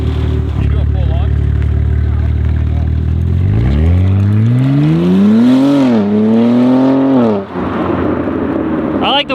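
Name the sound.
BMW G82 M4 with Valvetronic exhaust accelerating hard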